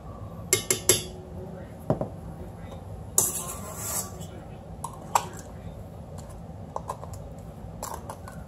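Sugar body scrub being packed down into a jar, giving scattered clinks, taps and scrapes of a utensil against the container. The handling noises are fairly close, arrive in short irregular bursts, and sit over a low steady background.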